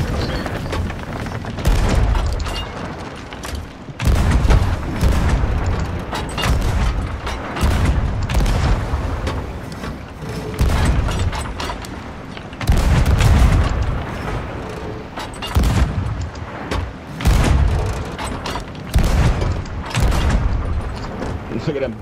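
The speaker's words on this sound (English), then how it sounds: "They saw the amount of cannons that went off" Repeated heavy booms of ship cannon fire in the video game Sea of Thieves roll out in uneven volleys, loud and close, with some crackling gunfire mixed in throughout.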